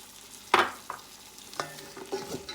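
Snow peas cut into small bite-sized pieces being stir-fried into basmati chicken fried rice, giving a few scraping stirs and brief bursts of sizzle, close and fairly quiet, with no talking.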